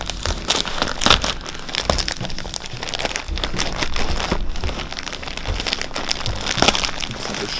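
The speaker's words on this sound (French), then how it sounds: "Tout de papier bulle." Bubble wrap packing material around a Canon EOS M5 camera crinkles and crackles continuously at close range, with dense popping crunches and handling noise throughout and no talking.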